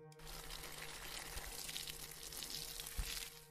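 Water splashing onto a potted plant in the Primary Color Man 2 demo game, a steady close hiss and trickle of pouring that runs the whole time with a small splash near the end.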